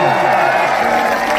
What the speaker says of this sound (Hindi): तो अमन अलवेला भाई के लिए जोरदार ताली बजावा हो भैया